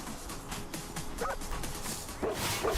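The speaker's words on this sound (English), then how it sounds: "Just killed by a golden retriever, just like that." Golden retriever in a video game barking and yipping during an attack, a few sharp yelps and whimpers over a busy game soundscape, moderately loud and close.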